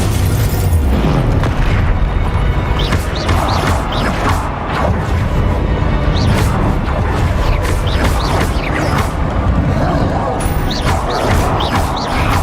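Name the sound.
Confringo and Bombarda spell explosions in video game Hogwarts Legacy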